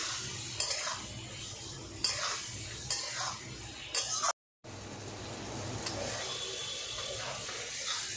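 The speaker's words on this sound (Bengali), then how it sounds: "আর হলুদ দিয়ে এবার ভালো করে কষবো" A spice paste with salt and turmeric is stirred and fried in a pan for a Bengali fish curry, with repeated scraping strokes of a spoon over a steady low sizzle and one brief cut near the middle.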